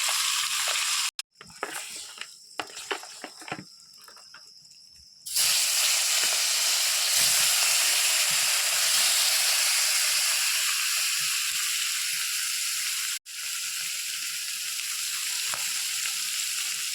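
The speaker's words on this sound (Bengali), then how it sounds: "সব মাছগুলোকে ভালো করে লাল লাল করে ভেজে নিচ্ছি" Large fish pieces fry in hot oil in a pan, giving a loud, steady sizzle and hiss. Clattering and stirring come first, then the dense frying noise fills most of the clip.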